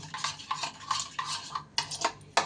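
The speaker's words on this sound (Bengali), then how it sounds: "এইবার এই উপকরণটা খুব সুন্দর করে এইভাবে ফেটিয়ে ফেটিয়ে মিশিয়ে নিতে হবে" Sour curd whisked with sugar and baking soda in a bowl, giving rapid rhythmic scraping and tapping strokes that repeat closely with a few sharper knocks against the side.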